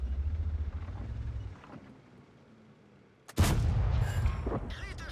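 A tank cannon in World of Tanks fires one loud, sudden blast partway through and leaves a rumbling tail, after a stretch of low engine rumble that fades quiet.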